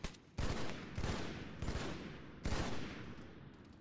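Gunfire in an ARMA video game firefight: heavy, loud bursts of shots repeat several times in quick clusters, with reverberant tails between volleys.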